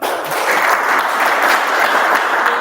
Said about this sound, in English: Please have a round of applause for him.